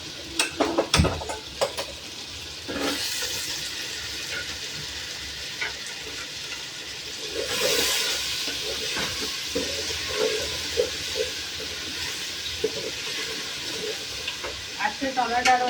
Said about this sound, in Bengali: একটা ডিমটা ভেজে নেবো।